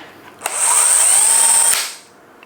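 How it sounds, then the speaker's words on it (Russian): A DeWALT DCD1007 cordless hammer drill-driver runs in a single loud, high-pitched whine for about a second, then cuts out abruptly as its anti-jam protection trips, with a click at the start and a click at the stop. "Шуруповерт автоматически выключится, если будет какой-то значительный рывок."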